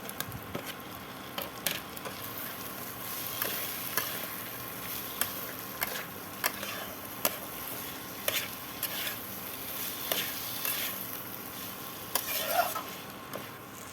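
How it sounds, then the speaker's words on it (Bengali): Soaked clams and potatoes frying in oily spice masala, a soft steady sizzle broken by frequent sharp ticks and scrapes of a spoon stirring against the pan, fairly quiet and without talk. "এবার আমি ভিজে রাখা ঝিনুক আর আলুটা আমি একসঙ্গে আমি এর মধ্যে আমি দিয়ে দিলাম।"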